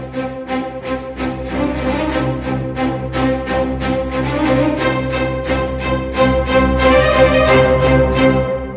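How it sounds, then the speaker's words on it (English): A Strezov Afflatus orchestral strings sample library plays rhythmic, tightly pulsing string parts in a dense, full ensemble texture. The passage is steady and moderately loud, with no voices. "I have the Strezov afflatus strings here."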